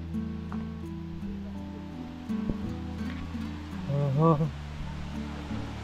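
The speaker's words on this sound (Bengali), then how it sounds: "ঝর্ণার শব্দ শুনতে পাচ্ছেন?" The Rupashi waterfall on the Kamaldah trail makes a steady rushing hiss in the background while someone talks over it close to the microphone.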